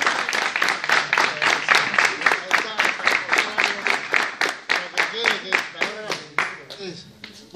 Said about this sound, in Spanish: ¿Dónde está el aplauso para él?